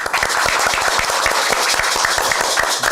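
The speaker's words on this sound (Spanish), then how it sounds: "Fuertes aplausos todos, por favor." Loud, vigorous applause from a studio audience, many hands clapping in a fast, dense rhythm with crisp individual claps audible throughout, sustained at full strength without a break.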